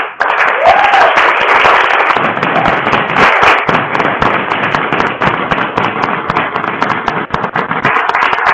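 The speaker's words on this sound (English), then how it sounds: "let's give her a applause" Dense, loud clapping from a group, a steady patter of many hands lasting several seconds without talk.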